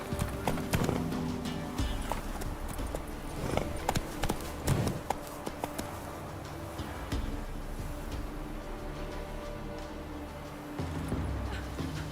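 A horse gallops in The Witcher 3 video game, its hooves clip-clopping in a quick, steady rhythm close by, with no talking.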